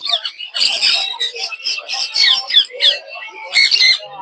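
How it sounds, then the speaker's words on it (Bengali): Ring-necked parakeets at a large bird market in Mirpur 1, Dhaka, giving a rapid run of harsh, shrill squawks and screeches in short bursts, loud and close, one call after another with brief gaps. "রিং নেক টিয়া আছে।"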